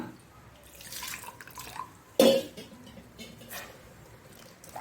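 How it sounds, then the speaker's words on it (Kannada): Water splashes into a pot of finely ground horse gram paste for a Mangalore-style saaru: one short, fairly loud pour near the middle, with soft drips and faint handling noises around it. "ಈಗ ಸ್ವಲ್ಪ ನೀರನ್ನು ಸಹ ಹಾಕೊಳ್ಳೋಣ."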